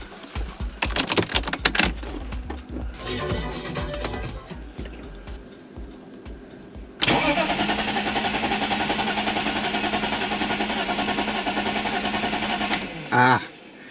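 A BMW Z4 engine, just back together after a VANOS rebuild, crank seal and water pump replacement, cranks without starting, with rapid chattering starter bursts and pauses, then a long steady whirring drone that cuts off abruptly.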